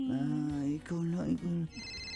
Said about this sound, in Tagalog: Parang ibang tunog na cellphone.